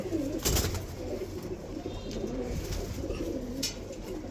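Silver pigeons cooing at close range, a steady soft murmur of repeated low coos running throughout with a slightly louder burst near the start, no voices.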